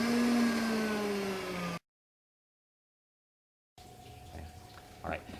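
A blender running on speed setting 5 gives a loud, steady whir that cuts off abruptly, then after a silent gap a faint hum and a few clunks follow.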